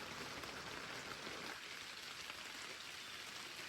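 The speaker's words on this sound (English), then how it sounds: "standing here waiting for the shower to stop" Steady rain pours down in a dense, even hiss, with droplets pattering continuously on surfaces nearby and no voices.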